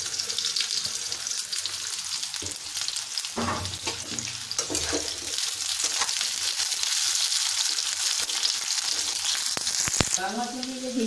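Drumsticks frying in mustard oil in a kadai give a steady, close sizzle with some clattering stirring in the middle and a brief splash near the end.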